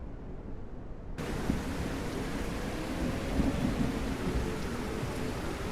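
Thunderstorm ambience in a video game demo with a steady wash of heavy rain and a low rumble of thunder that kicks in abruptly after a second of quieter noise, continuing evenly and fairly faint with no voices.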